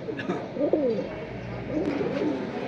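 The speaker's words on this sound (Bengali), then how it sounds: "এটা কি কবুতর আমিনুল ভাই?" Pigeons at a pigeon sale give soft, low, rolling coos in two short phrases. Faint background voices sit underneath.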